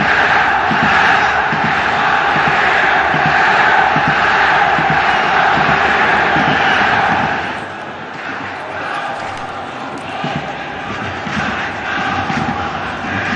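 Iraqi league football supporters, including the Al-Zawraa crowd, chanting together inside a stadium: a loud, continuous roar of massed voices that eases slightly partway through and then swells again, with a commentator's voice under it.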